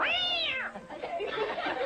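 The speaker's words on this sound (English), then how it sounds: "That's a cat." A cat gives a drawn-out, rising and falling meow, close and clear, followed by a murmur of background noise.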